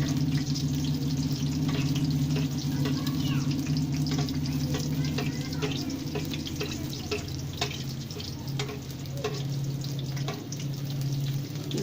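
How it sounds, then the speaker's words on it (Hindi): Chicken strips fry in oil over moderate heat for extra-crispy KFC-style tenders, giving a steady, close sizzle with scattered crackles and pops that run the whole time, with no talking. "क्रिस्पी चिकन बहुत ही आला किस्म के हमारे जो है ना फ्राई होंगे।"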